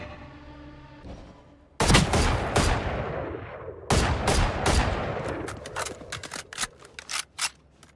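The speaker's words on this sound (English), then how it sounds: "now that I got the Guardian, it's a really good long distance headshot popper" Guardian rifle fire in the shooter game Valorant: a run of sharp, loud single shots with ringing tails, spaced irregularly, followed by quicker, lighter cracks toward the end.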